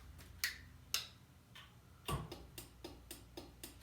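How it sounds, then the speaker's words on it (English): Garage door opener clicking in a garage beside a 2017 Harley-Davidson Softail Slim, a series of sharp, fairly faint ticks and clacks, a few spaced apart and then a quicker run, with no talk. "you heard the garage door clicking"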